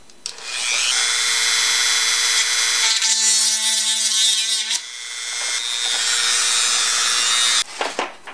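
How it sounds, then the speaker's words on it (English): Sanding a cut in a bamboo dip pen with a power tool, a loud continuous whirring grind that changes pitch midway and stops abruptly near the end. "Now, I'm going to sand to make the cut a little wider."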